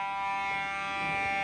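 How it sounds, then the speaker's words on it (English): A fire alarm sounds during a test, giving a steady, unbroken electronic tone with a rich harmonic buzz. It plays continuously throughout at a moderate level, with no talking. "you like the sound of the fire alarm"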